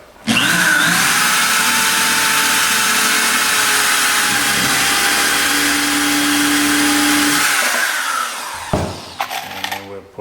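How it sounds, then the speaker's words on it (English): A countersink bit drilling into a wooden skiff during boat building, a steady loud motor whine running for about eight seconds before stopping, followed by brief knocks and handling sounds. "I will drill that."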